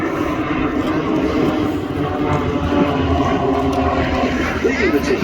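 Aircraft engine drone from planes flying a loop and wing-over display at the Duxford Battle of Britain air show, a steady broad roar lasting throughout beneath a commentator's voice over the public address.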